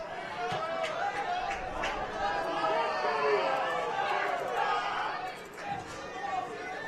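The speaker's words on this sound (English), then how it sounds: "Pretty good crowd on hand for a Friday night" Spectators at an Elmhurst College women's soccer game on a cool Friday night create a steady, distant murmur of crowd chatter beneath a commentator's voice.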